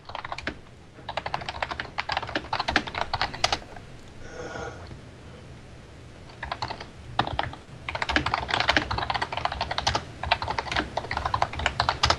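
Bursts of rapid typing on a computer keyboard, close and crisp, separated by a few quiet pauses, with a faint tonal sound briefly in the background during one gap.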